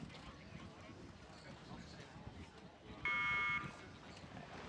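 The start buzzer at a junior world rowing championship race on a lake in Varese, Italy, a steady electronic tone lasting about half a second, heard over wind and the open-air noise of the course.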